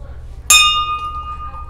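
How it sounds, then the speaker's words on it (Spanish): A single bright temple bell strike rings out close by at a Hare Krishna community site, its metallic tone sustaining and slowly fading over a low background hum. "ahora lo que sigue es tocar la campana"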